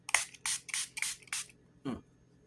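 A watermelon cucumber scented face mist spray bottle mists five times in quick, evenly spaced bursts, each a short airy hiss, close and fairly loud, followed by a brief softer sound.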